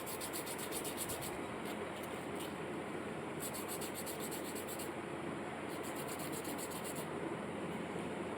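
A charcoal pencil rubbed against an abrasive surface to sharpen it, a continuous close scratchy rubbing that runs throughout, with brief rhythmic bursts of brighter scraping.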